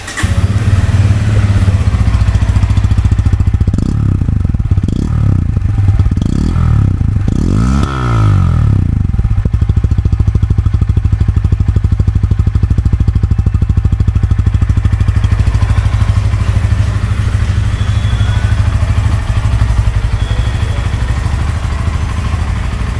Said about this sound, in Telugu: ఒకసారి ఇంజిన్ అయితే స్టార్ట్ చేసి చూద్దాం.